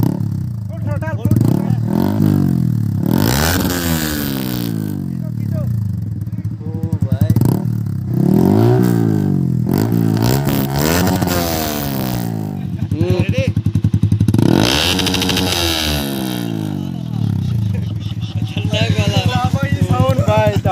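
A motorcycle with its exhaust dB killer removed revs repeatedly, loud and raw, rising and falling in bursts with people talking over it.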